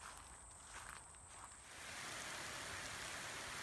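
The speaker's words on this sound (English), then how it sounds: "It's raining." Steady rain patters on a nature trail at a Fort McCoy campground, a soft close hiss that swells louder and denser after the first couple of seconds, with no voices.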